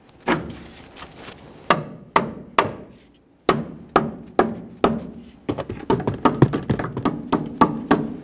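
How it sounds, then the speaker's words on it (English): A rubber mallet knocks an upper control arm into position on a 1998-2011 Ford Ranger, giving a run of sharp, close taps that start spaced apart and then speed into quicker clusters. "you could try using a rubber mallet to tap it into position"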